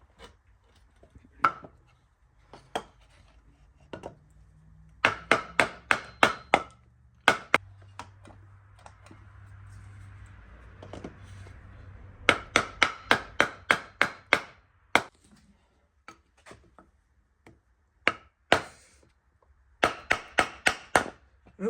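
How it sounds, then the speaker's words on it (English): Sharp metallic hammer blows strike the flywheel of a seized 1954 Johnson 5.5 HP outboard motor in quick bursts of several hits, separated by pauses and a low mechanical hum, close and loud. "You can either use a puller or strike it with a hammer and a 2x4 underneath and lift it up"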